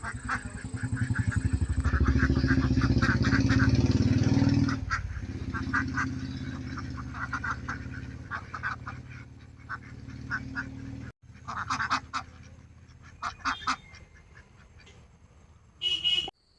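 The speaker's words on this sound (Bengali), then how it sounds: "কত হাঁস। এটা একটা হাঁস ফার্মিং।" Many ducks quack at a duck farm, a dense, loud chorus at first that thins into scattered nearby calls, with a horn-like honk and some background noise late on.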